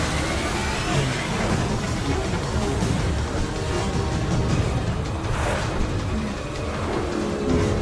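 A truck drives past in Mass Effect 2, a loud, steady roar of engine and road noise that fills the whole stretch without letting up.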